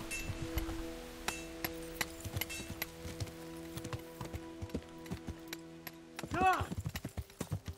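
Horse hooves clip-clop in the Kingdom Come video game, a steady run of close, sharp hoofbeats with faint clinking, followed by a loud horse whinny near the end.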